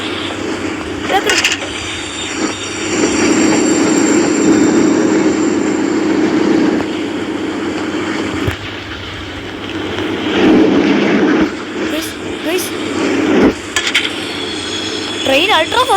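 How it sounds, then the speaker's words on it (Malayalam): A fast-moving train in the horror video game Choo Choo Charles, a loud sustained rumbling roar with rising and falling surges, close and dominant for the whole stretch. "ഞാൻ വിചാരിച്ചില്ലല്ലോ ട്രെയിൻ അൾട്രാ ഫാസ്റ്റ് മോനെ"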